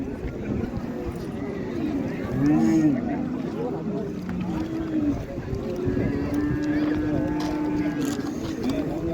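A cow lows in a few drawn-out moos at the busy Qarshi livestock market, heard beneath near-constant talk from people bargaining close by.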